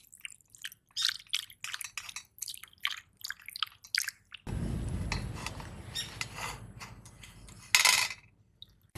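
Cold water pours and splashes over freshly made chhena (cottage cheese) being rinsed for sponge rasgulla, with a steady running gush after earlier scattered drips and small wet handling noises, close by.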